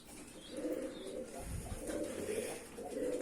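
A pigeon coos softly in low, throaty pulses, repeated a few times close by over faint background noise.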